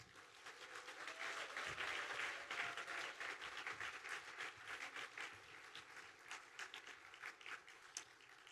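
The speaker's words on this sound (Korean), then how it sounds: "그건 박수로 맞이하겠습니다" A church congregation at a Sunday evening service applauds to welcome a missionary, a steady wash of many hands clapping for several seconds that slowly thins toward the end.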